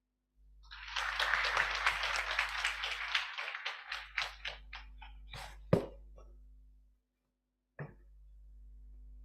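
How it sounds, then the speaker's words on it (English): An audience applauds warmly at a conference in Nairobi, a dense burst of clapping that thins into scattered claps, then stops, with a single sharp clap afterward. "I think he deserves another round of applause."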